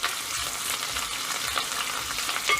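Crushed garlic and ginger sauté in a pan for Kerala-style idiyirachi, giving a steady, close, moderately loud sizzle with faint stirring scrapes and no talking.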